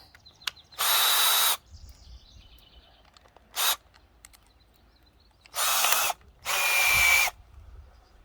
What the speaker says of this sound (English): So I can drill little holes